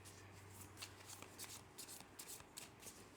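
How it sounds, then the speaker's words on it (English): Tarot cards being shuffled in quick riffling bursts, close and fairly quiet, with no talking. "These cards have been extremely well shuffled."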